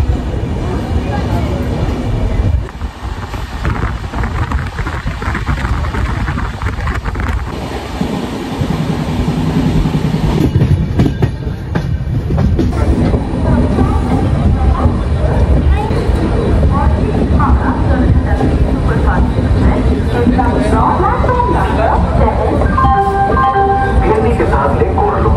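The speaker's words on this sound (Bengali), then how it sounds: "আমাদের ট্রেন ছেড়ে দিল মেচেদা স্টেশন থেকে" An 18409 Jagannath Express with new LHB coaches runs on from Mecheda station toward Kharagpur, a loud continuous rumble and rattle of the rolling train heard from inside the coach, with occasional voices in the background.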